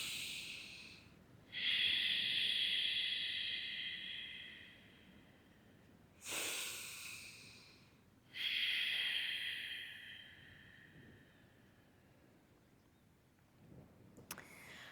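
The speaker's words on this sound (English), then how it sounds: "you are really exhaling, emptying all of your breath, all of your lungs on the exhale, and that's why you hear this audible breath" Slow, audible Ujjayi breaths during a gentle floor-based yoga class: three long, hissing, throaty exhales close to the mic, separated by quiet pauses, with a faint click near the end.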